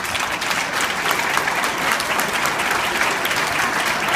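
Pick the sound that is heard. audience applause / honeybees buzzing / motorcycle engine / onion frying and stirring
audience applause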